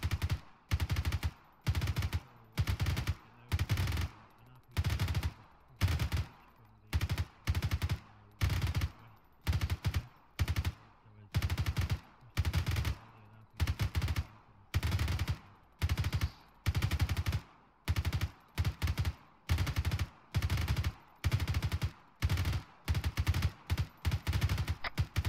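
Heavy, steady gunfire from Arma 3, loud and close, with evenly spaced automatic bursts repeating for the whole stretch, each burst a few shots long, and no voices over it.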